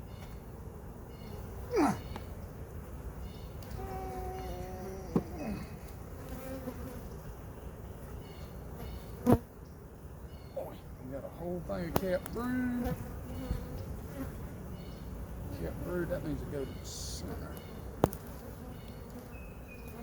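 Honeybees on a beehive frame holding capped brood give a continuous close buzzing hum, with someone talking over it and a few brief knocks.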